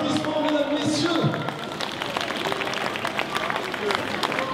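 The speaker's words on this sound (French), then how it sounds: "applaudissements mesdames, messieurs" An audience applauds and cheers at the opening of a Christmas market after the lights come on, scattered clapping with crowd chatter and voices in an outdoor setting, moderately loud and close.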